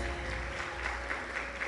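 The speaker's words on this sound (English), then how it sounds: "A round of applause for them," Audience applause for visiting guests and dignitaries at an evening event on female genital mutilation in Kenya: a soft, steady patter of clapping heard from a distance, fairly faint and even throughout.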